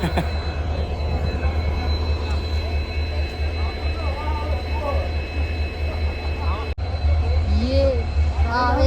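A steady low train engine drone hums throughout, heard from aboard the train, with a brief click and people talking over it.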